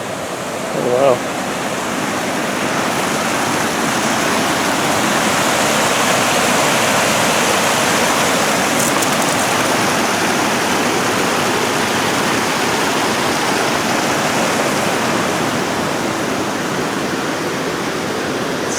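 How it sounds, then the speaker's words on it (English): Steady broadband rush of fast-flowing water under a trail bridge in western Minnesota, loud and close, running unbroken throughout with a brief bump near the start. "You can hear the water rushing through."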